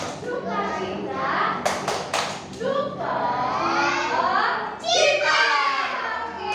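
Small children at a Sunday kids' church class clap a quick burst of about five claps in a joy-clap game, surrounded by lively children's voices and an adult leading them.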